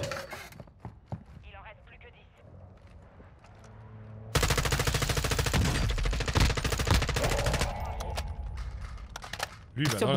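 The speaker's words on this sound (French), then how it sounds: "il tire beaucoup de balles derrière" An enemy in a shooter game fires a long, rapid, loud burst of automatic gunfire that goes on for several seconds after quieter sounds and talk, with players speaking in the background.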